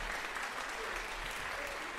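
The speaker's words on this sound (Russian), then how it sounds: "Аплодисменты." A concert audience applauds after a 13-year-old violinist's performance of Waxman's Carmen Fantasie in Moscow, a steady, full roar of clapping throughout.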